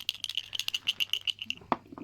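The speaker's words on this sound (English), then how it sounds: "it rattles because it's still got the Rumbler" An old crotal bell with a loose iron rumbler inside, shaken in quick, uneven bursts that give off a bright, close metallic rattle, ending in one sharper clank.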